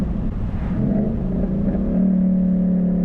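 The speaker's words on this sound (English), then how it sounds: "The pops and the downshifting." A 2012 Ford Mustang Boss 302 with Kooks sidepipes downshifts, its exhaust giving a loud, close, deep rumbling drone that shifts pitch partway through.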